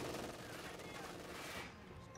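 MG42 machine gun fire in the strategy video game Company of Heroes 2, heard as faint, quiet bursts of gunfire for about two seconds, with a voice partly mixed in.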